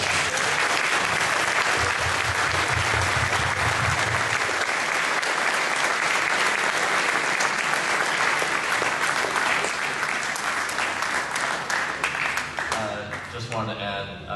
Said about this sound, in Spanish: yo quiero que les den un aplauso.